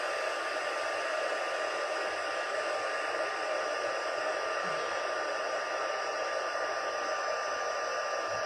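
A heat embossing tool for crafting blows a constant, steady hiss with an even hum underneath, running unbroken and close throughout.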